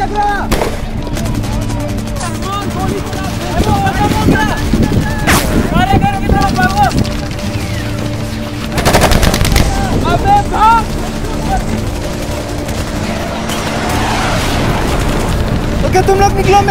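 Repeated gunfire from a real-life PUBG-style skit staged in Pakistan, with sharp broadband bursts and volleys spread across the clip alongside shouting and talk.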